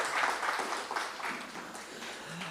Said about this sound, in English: Give the Honorable Dr. Tim Gopi Singh, give him a nice round of applause.